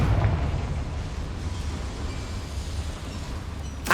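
A Confringo blasting spell explodes in Hogwarts Legacy, a heavy rumbling boom that rolls on for several seconds inside a mine, loud and close with no talk over it.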